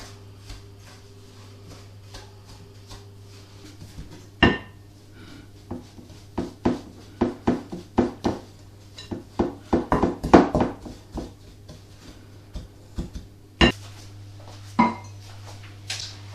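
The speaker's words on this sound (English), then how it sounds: "I'm going to break it up with my wooden spoon first before I use my electric whisk" A wooden spoon breaking sugar into butter in a mixing bowl for a chocolate cake, giving irregular knocks and scrapes that cluster in the middle over a low steady hum.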